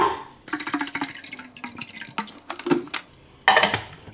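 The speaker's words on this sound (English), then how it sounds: "alright, so we'll refill our water tank." Running water splashes and trickles irregularly into a Nespresso machine's water tank, with brief pauses and a louder gush near the end, close by and moderately loud.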